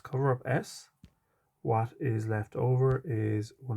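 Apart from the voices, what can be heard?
None of the usual background noises is heard.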